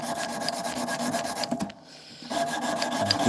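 A knife blade is hand-sanded with abrasive paper, changing grits between passes: steady close rubbing rasp strokes with a short pause before the rhythmic scraping resumes.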